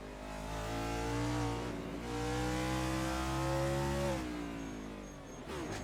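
A race car engine in a racing video game at the Circuit of the Americas drones loudly in sustained, rising pitch sweeps with a brief lift near the end, steady and close with no talking.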